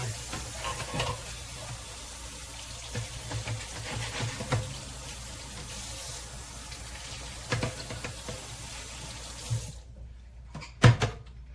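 Rutabaga being rinsed under a running kitchen tap, a steady close splashing stream with occasional handling clatter, then the water cuts off near the end, leaving a few faint knocks.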